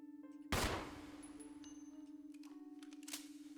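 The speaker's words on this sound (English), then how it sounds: "So let's see what happens when we shoot at this supposed enemy." Gunfire at an enemy in Resident Evil CODE: Madman: one sharp, loud shot rings out and decays over a steady electronic hum, followed a few seconds later by a second, fainter shot.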